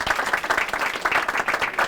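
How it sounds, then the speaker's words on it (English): Audience at a digital school showcase applauding trainees, with brisk, dense clapping from a roomful of people, close and steady throughout. "Big round of applause for our trainees who are all here"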